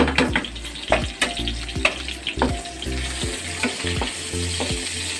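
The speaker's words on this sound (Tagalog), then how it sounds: "So, lagyan na natin yung garlic." Garlic sautéing with softened onion in a pan for chicken apritada, a loud, close sizzle punctuated by rhythmic scrapes and knocks of a spatula stirring against the pan bottom, with no voices.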